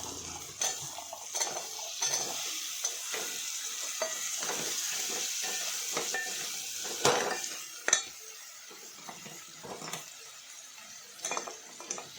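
Chopped, washed potatoes go into a pan of spiced oil for a Maharashtrian potato curry and get stirred, with a steady sizzle under repeated scraping and clinking of a metal spoon against the pan.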